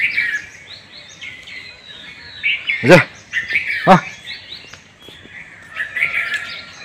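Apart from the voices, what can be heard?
birds chirping in the early morning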